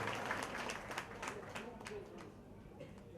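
An audience at a Luhar community function gives faint, steady applause, a dense patter of many hands clapping at a distance, with voices murmuring through it.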